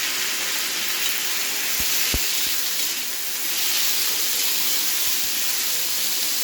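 Garlic cloves and tomato pieces sautéing in a pan with golden-brown onions, giving a steady, loud sizzling hiss with a few faint utensil taps.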